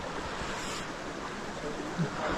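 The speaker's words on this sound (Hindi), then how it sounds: "ये टोटली फ्रेश पानी आ रहा है।" Fresh spring water pours steadily into a natural swimming pool in Afghanistan, a continuous rushing wash with a faint voice nearby.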